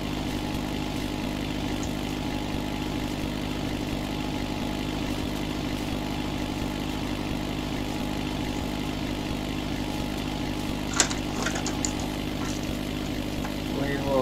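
Ford 5610 tractor engine running steadily while tedding a field, a continuous close droning hum with a brief clatter near the end.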